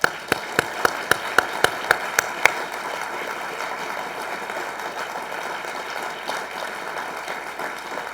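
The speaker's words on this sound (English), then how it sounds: "I ask that you join me with another round of applause for Walter." Audience applause for Walter at the 2005 Goldsmith Awards: a run of distinct, evenly spaced loud claps, then a softer continuous wash of clapping from the room.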